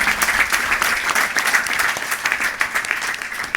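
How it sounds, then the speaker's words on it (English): A crowd at a Father's Day gathering claps steadily for a few seconds, dense and even applause with no voices standing out. "Let's have a round of applause, not just for my dad, but to all the incredible dads here at Isha."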